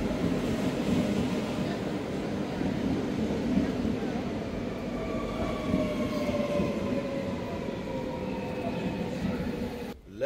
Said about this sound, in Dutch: Met deze trein gaan we naar Utrecht.